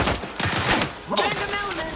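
Gunfire in The Outer Worlds 2 video game crackles in bursts of rapid shots and impacts, mixed with game effects and a voice talking briefly underneath.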